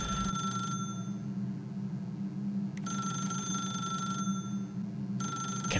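A telephone in The Stanley Parable rings in long bursts separated by short pauses, a bright trilling bell over a constant low hum.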